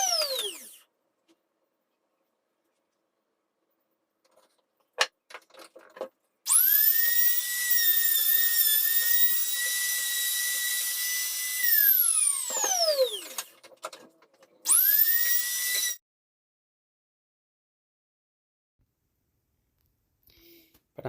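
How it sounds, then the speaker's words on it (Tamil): Electric wood trimmer cutting along the edge of a wooden tray handle, giving loud high-pitched whining bursts with long spin-ups and spin-downs, separated by silent pauses. "அந்த இடத்த நாங்கள் வந்து இந்த ட்ரிம்மரில் போட்டு கொஞ்சம் ஓரத்தை பிடிச்சிக்கோற"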